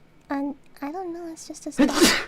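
A sharp sneeze bursts out at the end, loud and close, right after a short stretch of speech.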